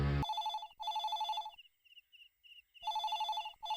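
An old-style telephone rings loudly indoors in a classic Tamil TV serial scene, sounding in repeated electronic ring bursts with a short quieter gap midway, after a brief loud sound at the start, with no talk.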